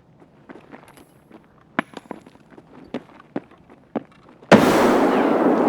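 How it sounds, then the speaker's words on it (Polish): Scattered footsteps and clicks, then a sudden loud flashbang grenade blast in the video game Escape From Tarkov that leaves a sustained harsh ringing hiss to the end. "granat wybuchł"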